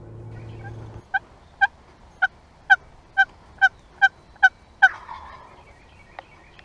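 A wild turkey gobbles repeatedly during a turkey hunt, giving about eight sharp, evenly spaced calls at moderate distance, followed by a brief rougher rustling burst and a few faint clicks.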